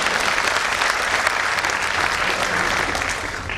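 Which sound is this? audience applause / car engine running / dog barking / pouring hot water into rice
audience applause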